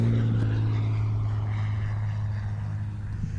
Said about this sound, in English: This is a very rare 1986 F-33C that is fully certified for aerobatics.